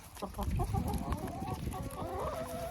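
Backyard hens cluck and murmur steadily while pecking at a grain mix of cracked corn, sunflower seeds and wheat, with several birds close by in a busy, continuous chorus.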